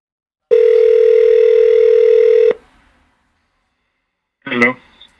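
A steady telephone call tone hums for about two seconds during a live television phone-in, then cuts off; after a pause a brief burst of voice follows.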